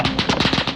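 Rapid gunfire in a team-based payload video game, a dense rattling burst of fast shots throughout a brief moment, loud and close.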